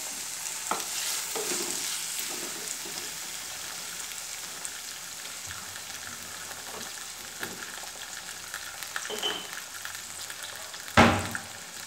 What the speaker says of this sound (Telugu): టమాటా వేసుకున్నాను. టమాటా బాగా మగ్గనియాలి.